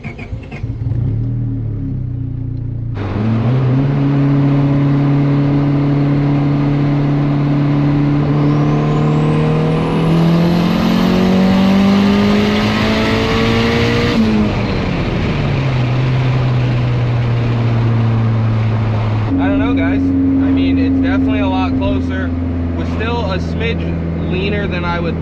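A built turbocharged D16 car at 25 psi on E85 fuel pulls hard at wide open throttle, engine note climbing through the gears with a shift partway, loud and close with a whistle rising over the top.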